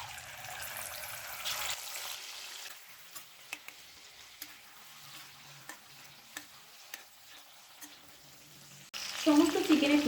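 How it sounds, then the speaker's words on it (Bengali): More chicken pieces frying in oil: a hissing sizzle opens, then a quieter stretch with scattered light clicks and taps, and a louder burst of frying returns at the close. "বাকি সমস্ত চিকেনগুলো এভাবে ভেজে নেব।"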